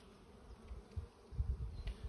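Honeybees swarm over a healthy open beehive stocked with honey, a dense, steady buzz that swells and throbs up close with no voices.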